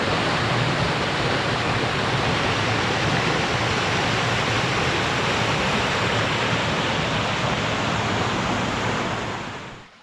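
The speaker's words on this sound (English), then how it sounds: "looks like the path is getting pretty close to flood stage here" Flooded river rushing beside the Appalachian Trail, a loud, steady broadband roar of fast water running unbroken throughout before cutting off at the very end.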